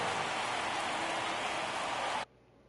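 Constant stadium crowd roar in the baseball video game MLB The Show 24, a dense, steady wash of sound at even volume that cuts off abruptly near the end, leaving near silence.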